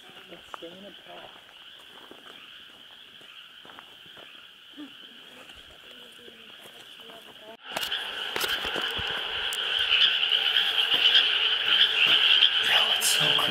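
Frogs croaking near a tunnel at night, a dense steady chorus that gets louder midway, with faint footsteps and some movement in the foreground.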